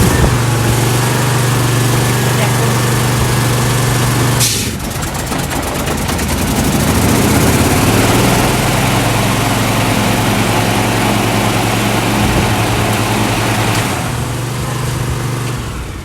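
A Husqvarna R420TSX AWD ride-on mower's small engine roars steadily at full revs, loud and close, with a sudden shift in tone partway through as the blades engage and a heavier load kicks in.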